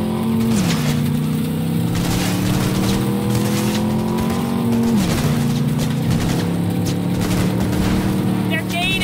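In Cyberpunk 2077, a car engine drones loud and steady during a drag race, its pitch sliding down twice as gears shift, while excited talk runs over it.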